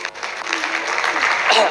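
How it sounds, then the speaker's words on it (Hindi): A group breaks into brief, energetic applause at a presentation, clapping loud and close over a short burst with voices mixed in. "जबरदस्त, ताली होनी चाहिए।"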